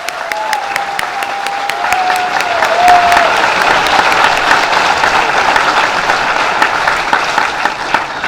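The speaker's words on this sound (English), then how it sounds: "one last round of applause for all of our award recipients." Loud, sustained applause from an audience at a police merit awards ceremony in a hot room, dense clapping holding steady for several seconds after a brief voice at the start.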